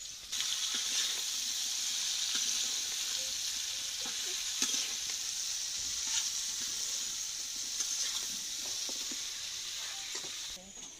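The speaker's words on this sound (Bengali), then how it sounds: "চলছে মাছ রান্না" Fish frying in hot oil in a pan in a home kitchen, giving a loud, steady broadband sizzle that runs unbroken throughout, with occasional faint clicks and stirring sounds.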